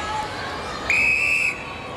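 A referee's whistle sounds once at an international netball test match, one sharp steady blast of about half a second cutting over crowd hubbub and chatter.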